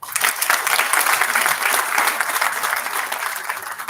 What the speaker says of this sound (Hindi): अब आपने ताली बजा दी है